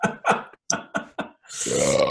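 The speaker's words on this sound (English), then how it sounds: "that burp tasted like peppered beef jerky." A long, loud burp rumbles out after a few short vocal sounds, close and drawn out.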